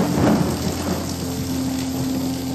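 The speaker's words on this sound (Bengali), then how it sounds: "এরকম বৃষ্টি চলবে" Heavy monsoon rain pours steadily during a stretch of stormy weather in South Bengal, with a thunder rumble swelling near the start. A loud, continuous downpour fills the whole stretch, with no voices.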